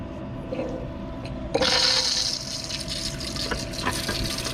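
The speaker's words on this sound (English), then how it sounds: "We got water coming up." Hot water gushing from a newly installed sink supply line, starting abruptly after a quiet moment and then running steadily and close, with a low hum beneath.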